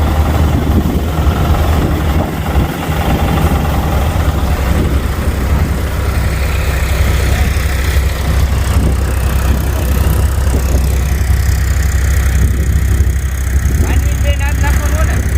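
Loud, continuous engine rumble of a modern groundnut thresher, with a steady low drone, running without pause; faint voices are buried beneath it.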